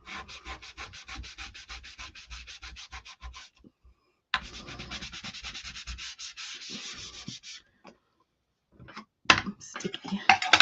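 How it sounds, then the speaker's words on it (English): Wax is buffed by hand across a chalk-craft door decor surface with steady back-and-forth rubbing strokes, a soft scratchy sanding sound that pauses briefly before resuming in quieter bursts. "So I'm just kind of buffing out that wax, trying to get as smooth of a surface as I can."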